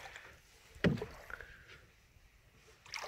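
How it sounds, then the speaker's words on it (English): A canoe paddled through the side of a bog on the Bog River Flow in the Adirondacks, one sharp knock or splash from the hull or paddle, then quiet water movement and faint rustling. "Slipping the boat through the side of another bog."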